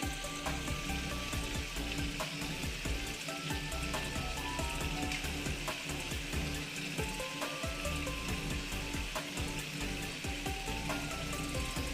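Water with mustard-poppy paste bubbles and sizzles steadily in a pan for pabda fish, a close, continuous crackling hiss with no talking.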